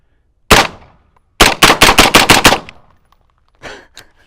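Suppressed 5.56 rifle fitted with an OSS HX-QD 556 suppressor: one loud shot, a pause, then a rapid string of six close sharp reports, followed by fainter trailing noises.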